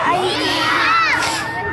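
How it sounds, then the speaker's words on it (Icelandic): Crowd cheering with children shouting and yelling at a soapbox car race in a town square, loud, dense and continuous throughout, with excited voices layered over one another. "Keppendum var fagnað vel af félögum sínum þegar þeir luku keppni."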